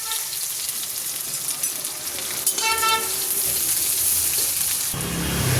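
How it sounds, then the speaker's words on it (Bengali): Greens frying in a pan with panch phoron, dried chili and a little onion, a steady close sizzle running throughout, briefly joined by a horn-like tone in the middle. "এই যে শাক ভাজতে চলে এসেছি"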